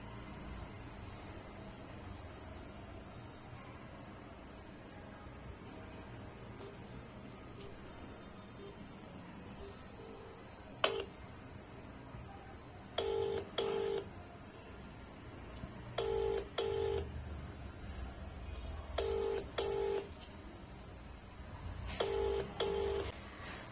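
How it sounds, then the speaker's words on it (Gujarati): A phone call rings and goes unanswered: repeated paired electronic ringback tones sound in regular bursts about every three seconds over a steady background hiss, with no voice answering. "મમ્મી લાગે છે આજે ફોન નહીં ઉપાડે, કેમ કે એને ખબર નથી કે રિંગ વાગે છે"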